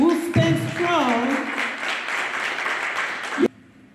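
An audience applauds to welcome a speaker to the podium at a ceremony in Haiti, steady clapping that rises over a voice at the start and then stops abruptly.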